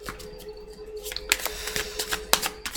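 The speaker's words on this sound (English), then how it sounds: "Shuffling." Tarot cards are shuffled in a love reading, giving a run of dry, papery riffles and sharp clicks that start sparse and grow busier, heard close and alone with no talk.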